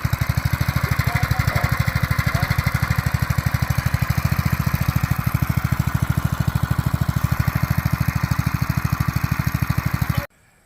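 A small engine runs steadily for about ten seconds, a close, loud, even putter with fast regular firing pulses, then cuts off abruptly at the end; it powers a sprayer whose hose had a leak.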